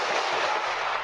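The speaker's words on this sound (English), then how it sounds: "Surveillance video capturing what appears to be a barrage of gunfire." A dense barrage of gunfire on surveillance footage during a Juneteenth gathering in Chicago, harsh broadband crackle packed tightly into a second, loud and distant-sounding with no clear gaps between shots.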